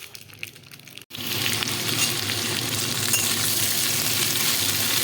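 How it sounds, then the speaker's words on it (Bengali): Potatoes frying in a pan for a home-cooked dinner give a steady, close sizzle that starts up after a brief quiet moment and then holds loud and even, with a few light clinks. "তারপরে দেখো এখানে একটু আলু ভাজছি"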